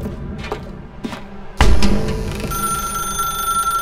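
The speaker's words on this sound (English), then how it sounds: "Now pick up the phone" A telephone rings in a dark room in The Stanley Parable: Ultra Deluxe video game, entering as a loud, steady electronic ring after a few sharp knocks and clatters, with no voices.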